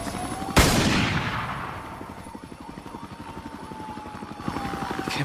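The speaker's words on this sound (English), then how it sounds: "And then I heard some more banging, gunshots." Gunfire in the video game Columbine Zero Hour: one sharp, loud blast, then a long run of rapid rhythmic pops over a steady droning background.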